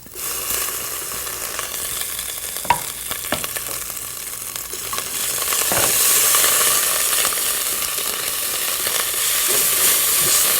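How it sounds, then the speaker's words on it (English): Chili, ginger, cumin seeds and fennel seeds toasting in a hot pan, giving a steady, close hissing sizzle with occasional crackles and scrapes, growing louder and brighter partway through, with no voices. "Let's toast all our spices together until the ginger goes slightly brown."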